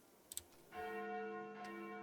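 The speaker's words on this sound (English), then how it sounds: "Those sound like the church's noontime bells" Church bells ring out at noon in the horror dating game Sucker For Love, a sustained resonant toll that swells up after a couple of faint ticks and hangs steadily in the air.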